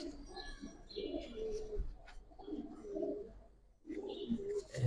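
Old-line Giribaz pigeons, a racer-type breed, coo softly in low repeated phrases across several seconds, with a brief pause before the cooing resumes.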